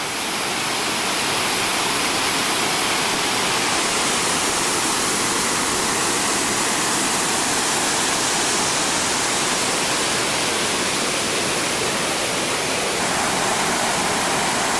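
Thunder River in the Grand Canyon roars as a waterfall, a dense, loud, unbroken rush of falling water that holds steady with no voices throughout.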